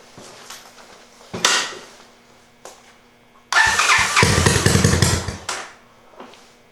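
Honda Fourtrax 200SX quad with a new CDI box on a cold day, cranking over in short bursts before the engine catches and runs roughly for a couple of seconds, then dies back to quiet.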